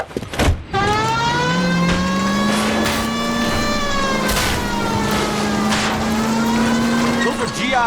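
A car crashes through backyards during a chase in the video game L.A. Noire: a loud, sustained engine whine rises and falls, broken by a couple of sharp crash impacts.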